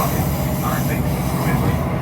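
ScotRail passenger train bound for Edinburgh, heard from on board as a steady low rumble of wheels and carriage noise running continuously throughout, with faint background voices.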